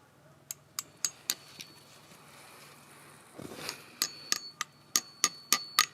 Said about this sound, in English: now you pound the spout in